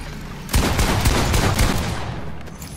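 Rapid bursts of gunfire in the video game Fortnite, loud and close, erupting after a brief quiet moment and continuing in dense volleys for a couple of seconds before easing slightly.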